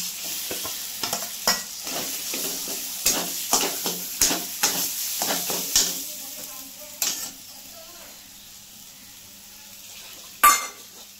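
Lentil paste for dhoka sizzles and fries in a pan while being stirred, with repeated sharp scraping strokes over a steady hiss, then a final loud clatter near the end.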